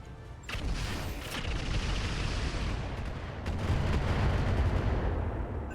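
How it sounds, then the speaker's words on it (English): Dual mortars fire from a Stalker mech in the RogueTech BattleTech game, a dense roll of heavy booming blasts that starts abruptly and keeps rumbling and thudding close and loud with no talk. "the Stalker is going to go for the dual mortar"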